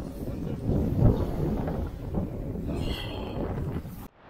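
Strong rainy wind buffets the microphone on a flounder fishing outing at Jones Beach, a loud low rumbling roar that gusts unevenly and then cuts off abruptly.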